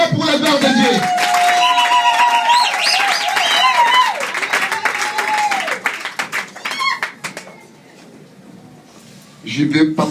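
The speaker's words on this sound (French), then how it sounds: "Applaudissez fortement pour la gloire de Dieu." A church congregation claps loudly under raised voices and sung tones, the rapid clapping persisting for several seconds, thinning and nearly dropping away near the end before a short renewed burst.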